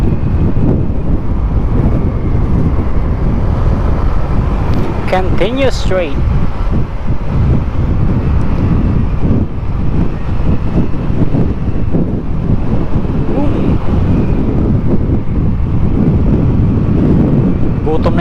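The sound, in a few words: strong wind noise while riding a motorcycle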